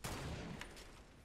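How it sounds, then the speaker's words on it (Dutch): Gunfire in Fortnite rattles off in a quick, faint burst of shots followed by a short fading tail, with no speech over it. "Wie schiet er op ons?"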